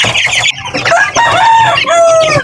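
Chicks and chickens eagerly feeding, with loud, busy overlapping cheeps, chirps and clucks close by, continuous over a brief stretch.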